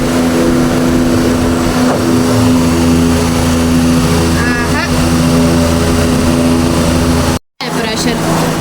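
A newly fitted air cooler motor runs with a steady droning hum, loud and close, with a brief cutout near the end and voices talking over it.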